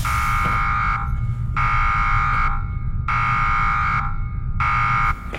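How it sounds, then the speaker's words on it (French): A loud electronic alarm buzzer blares in long, steady bursts, cutting out briefly between each one, with a low rumble running underneath throughout. "Lieutenant, débranchez l'alarme."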